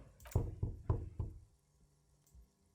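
Knocking on a door in the video game Disco Elysium: four firm, evenly spaced knocks, close and clear, followed by near silence.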